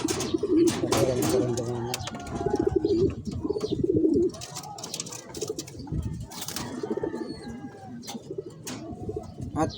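Pigeons coo in low, soft repeated phrases close by, mixed with bird chirps and scattered clatter, while a person talks over them.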